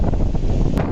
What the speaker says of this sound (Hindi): ये देखिए बहुत ही तेज आंधी आई